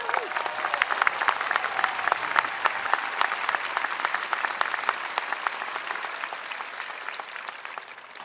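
Audience at a Stanford commencement applauding as Melinda French Gates is welcomed, dense sustained clapping from a large crowd that gradually thins and fades toward the end.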